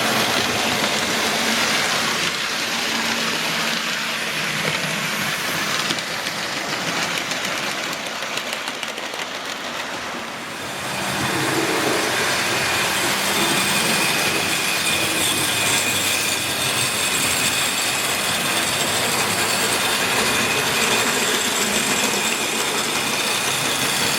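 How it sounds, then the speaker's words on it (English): Class N2 model locomotives run on a model railway layout, giving a continuous close rumble and rattle of wheels on track, with a brief lull midway before the running noise resumes. "What a well-behaved little locomotive."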